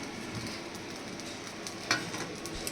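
Poppy seed paste added to hot oil in a wok for a ridge gourd dish, with a faint, steady sizzle and a few soft stirring clicks, close and quiet, no voices.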